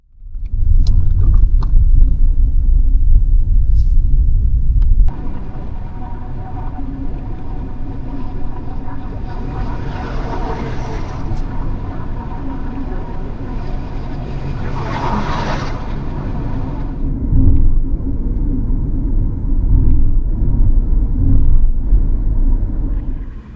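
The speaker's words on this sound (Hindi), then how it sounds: "रात भर ट्रक्स आती रहेंगी।" Trucks rumble past on an Indian highway at night near a roadside fuel stop between Bhilwara and Kishangarh, heavy low engine roar swelling and fading as vehicles pass, loud and close with a brief drop after a few seconds.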